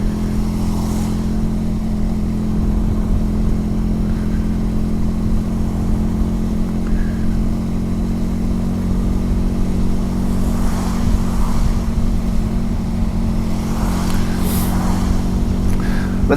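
A Benelli TRK 502X with a 500cc twin-cylinder engine rides slowly through traffic on a wet, windy commute, giving a constant close engine drone mixed with wind rush and no clear revs.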